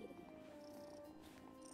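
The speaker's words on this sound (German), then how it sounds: "Ach, dieses Schnurren ist echt zu schön" A cat purrs in the farming life game Wylde Flowers, a soft steady rumble that runs continuously and close, with faint game music tones layered above it.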